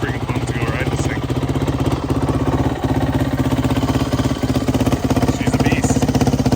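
A motorcycle engine pounds with a fast, even firing rhythm, loud and close, running continuously on a ride through the California desert.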